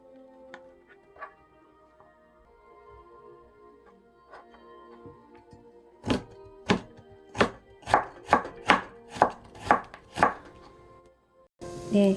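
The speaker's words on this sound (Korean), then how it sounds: "아주 얇게 썰어주세요" A knife chops carrot into very thin julienne strips on a cutting board, about a dozen sharp, evenly spaced knocks coming quickly and close, after a quieter stretch of softer kitchen handling.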